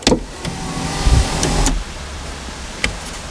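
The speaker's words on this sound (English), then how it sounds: "Happiness is a working Corrado sunroof." An electric sunroof motor on a VW Corrado whirs steadily for a couple of seconds, with close clicks and thumps at the start and a soft clunk as the roof panel stops, then a faint click later.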